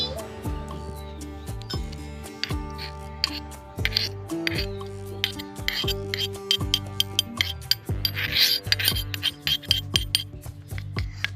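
Small toy cooking pot stirred with a utensil in a child's pretend kitchen, giving repeated bright metallic clinks and scrapes close by, with a steady musical background underneath.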